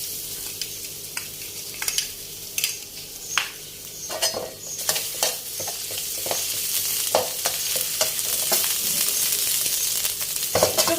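Red curry paste stir-fried in a pan over low heat, with coconut sugar, sliced galangal and shredded fingerroot for a catfish dish: a soft sizzle beneath irregular scraping and clinking of a spatula against the pan.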